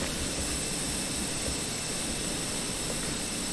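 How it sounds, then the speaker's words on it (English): Airbus A320 engines start up in a flight simulator, with a loud, steady broadband jet roar and whine filling the whole stretch without any talk. "I'm just going to start the engines anyway"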